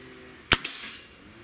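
.30 caliber air rifle (a Gamo Swarm Magnum or Hatsan 135) fired once, a sharp close crack followed a split second later by a fainter smack of the pellet striking a target at twenty yards.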